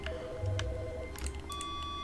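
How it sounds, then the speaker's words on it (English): A phone rings and beeps in The Stanley Parable video game, a string of short electronic tones and steady beeps heard up close with no speech. "Why is our phone going off?"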